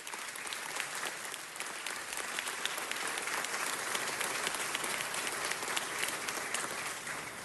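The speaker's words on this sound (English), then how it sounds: "Let's give them a round of applause." Audience applause fills a city council meeting, a dense and even wash of many hands clapping steadily with no talk over it.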